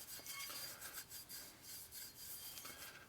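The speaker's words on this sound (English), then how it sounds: "and then go back to the scrub pad in it" A scrub pad rubs back and forth on a metal 8mm 62-tooth belt-drive clutch basket pulley, giving quiet, repeated abrasive scratching strokes in an uneven rhythm, close up and with no talk.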